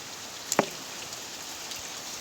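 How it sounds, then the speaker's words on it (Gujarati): Steady rain hisses evenly throughout, with one short splash-like tap near the start standing out against the wash, water splashing up on a road. "વરસાદ આવી ગયો તો તમને આપણે અટાણે પાણી રસ્તા ઉપર ઉડે છે જો."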